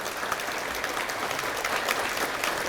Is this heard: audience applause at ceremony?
yes